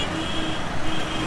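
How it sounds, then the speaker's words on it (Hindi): Road traffic rumbles on a busy street in Agra, a steady wash of passing cars and engines at moderate distance, fairly constant and without voices. "बहुत गाड़ियों की आवाज़ है"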